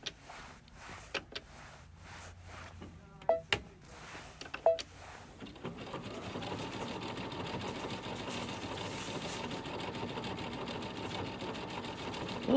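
A Brother Luminaire embroidery machine sews a taper stitch. Sparse clicks and short whirs come first, then the machine runs in a steady, fast, rhythmic stitching patter that grows louder toward the end.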